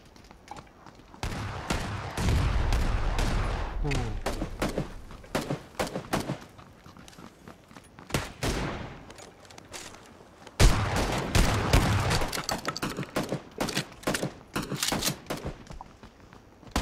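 Rapid bursts of automatic gunfire from a weapon in PUBG (PlayerUnknown's Battlegrounds), loud and close, firing in long sustained volleys with short pauses between them, played alone with no talking.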